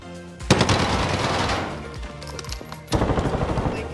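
Rapid bursts of automatic gunfire in the Warzone video game, loud and close, rattling in two clusters with a short lull between them.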